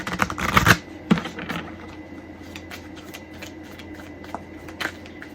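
A brisk shuffle of oracle cards up close, a quick riffle of papery flutters at the start, then a short tap and faint handling sounds in the quiet.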